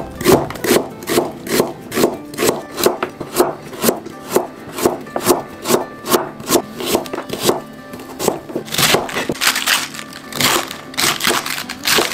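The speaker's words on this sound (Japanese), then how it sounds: "お鍋を温めてる間に材料ちゃちゃっと切っておきましょう。" A knife chops ingredients such as garlic chives and pork belly for yakisoba on a wooden cutting board in steady, evenly spaced close thuds, about two per second, then turns quicker and more irregular near the end.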